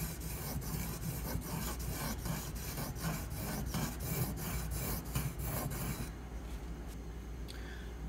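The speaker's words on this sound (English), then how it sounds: "I know that grinding sounds awful" A Spyderco Manix 2 knife blade is ground against a Pride Abrasive sharpening stone in steady, rasping strokes with a regular back-and-forth rhythm, close and continuous for most of the clip before the strokes lighten near the end.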